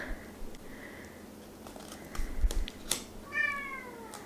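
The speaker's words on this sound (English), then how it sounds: "And my cat Merlina wants to be a part of things, as usual" A pet cat meows once, fairly close and clear, with faint rustling and handling noises around it in an otherwise quiet indoor room.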